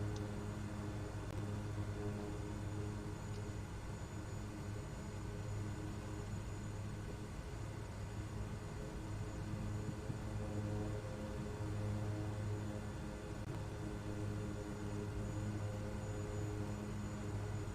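A light aircraft in a flight simulator game rolls out after landing, its steady engine drone and broadband rumble continuous and fairly loud throughout, with no talking.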